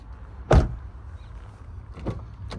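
Power window motor of a 2021 Toyota Kluger Hybrid GXL AWD, a short loud whir near the start followed by two fainter, briefer motor sounds, heard close up with no talking.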